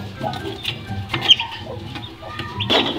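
Soft, high peeping from chicks and occasional clucks, scattered and close, with faint background noise and a brief voice.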